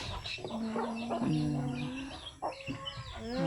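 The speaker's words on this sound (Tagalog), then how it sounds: "Nanay na dakop ni Riri nga manok" A chicken caught on a hillside farm squawks and clucks in drawn-out, agitated calls, close by, with faint background noise.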